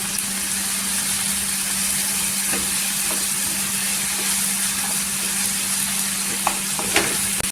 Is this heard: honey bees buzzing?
no